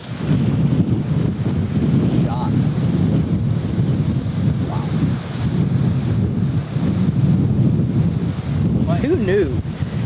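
Strong wind on a golf course, heavy low rumbling buffeting across the microphone that continues steadily throughout, with faint voices briefly rising through the gusts.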